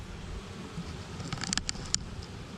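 Honeybees stream out of a hive under a constant low buzzing drone, with a few sharper, brighter passes of individual bees flying close by near the middle.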